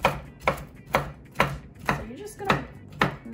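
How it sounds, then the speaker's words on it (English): Chef's knife chopping nuts on a cutting board, seven sharp, evenly spaced chops in a steady rhythm, close and crisp, with no talking. "I take a chef's knife and my cutting board and I just go over top of the nuts and chop down"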